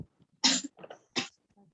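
Cough indoors during a religious class: three short, sharp bursts in quick succession, the first and last strongest, close and fairly quiet with no talk over them.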